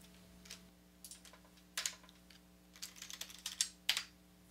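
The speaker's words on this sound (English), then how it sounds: "A faster way to create markers is to use the Enter key on the numeric keypad of your computer keyboard." Sharp, close clicks of keys pressed on a computer keyboard's numeric keypad, including the Enter key, in scattered bursts over a quiet electrical hum.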